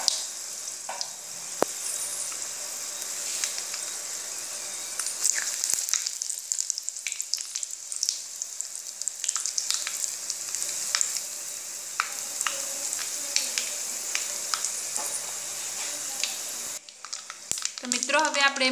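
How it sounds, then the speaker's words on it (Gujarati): Curry leaves fry in hot oil for a yogurt okra dish, giving a loud, continuous crackling sizzle close by, with a brief spatter near the end and a voice speaking faintly at times. "હવે આપણે એમાં લીમડો નાખીશું,"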